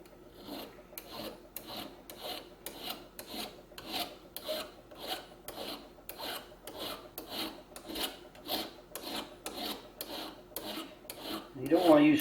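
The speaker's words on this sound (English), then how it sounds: "file a little bit of that texture out." A hand file rasping across a folding pocket knife's steel to remove hammered texture, steady back-and-forth strokes in an even rhythm, close and fairly quiet, with no talking.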